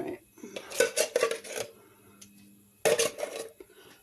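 A casserole dish being handled in a home kitchen while making a sauerkraut sausage casserole, with bursts of clinking, scraping ceramic and utensil sounds, a pause, then another clatter, close and moderately loud.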